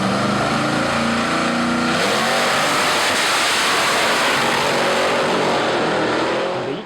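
Classic Dodge drag cars, a Dart and a Charger each fitted with a 707-horsepower Hellcat engine, roar loudly and continuously as they accelerate, engine pitch shifting early on, with no talking.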